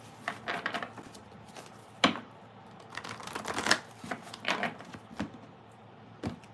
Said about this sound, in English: Only 2 more decks to shuffle before I actually get into the Capricorn reading